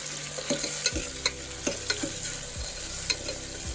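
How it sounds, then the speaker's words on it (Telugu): Chopped tomato and curry leaves frying in a pan are stirred with a spoon, giving a steady close sizzle broken by several sharp scrapes and knocks against the pan, with no talking. "ఇప్పుడు ఇవన్నీ బాగా మిక్స్ చేసుకున్నాను."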